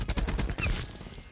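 A KN-57 MKII rifle fires in a rapid automatic burst in a first-person shooter, with loud, close shots in quick succession for about half a second and then a decaying echo tail.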